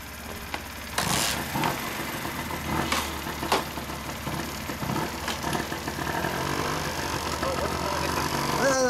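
A custom Honda Ape50 (HC07) mini motorcycle settles into a steady, moderately loud single-cylinder idle just after a kick start, with people talking over it.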